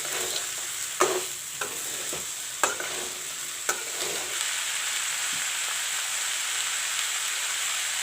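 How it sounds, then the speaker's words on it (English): Soaked chana and green moong stirred in a hot pan for a curry, a steady close sizzle with a few sharp scraping knocks of the spoon early on, then continuous frying hiss. "Mix it well."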